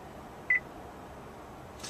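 A single short electronic beep from a 2012 Honda Odyssey's navigation voice command system, clean and fairly loud, over a quiet background hum, followed later by a faint soft hiss.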